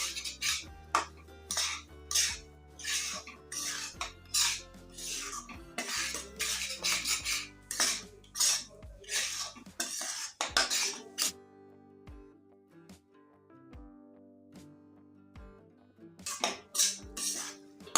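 A metal spoon scrapes and clinks repeatedly against a pan while semolina roasts in ghee for barfi, in a busy, irregular rhythm of close, bright scraping strokes.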